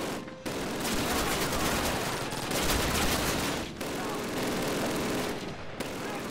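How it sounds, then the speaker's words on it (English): A mounted machine gun in Call of Duty (2003) rattles in long, loud, near bursts with brief gaps, rapid dense fire filling the clip during the Reichstag fight. "Hopefully, the next Call of Duty, the MG is not so loud."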